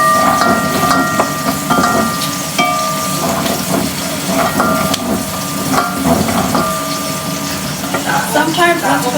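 Onions stirring as they fry in a pan: a constant close sizzle under repeated scraping and clinking of a utensil against the pan, keeping an uneven rhythm throughout.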